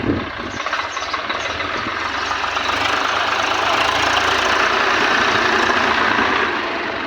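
A tractor engine idles and runs steadily on a farm, a loud continuous low rumble with a knocking texture that stays level throughout with no talking.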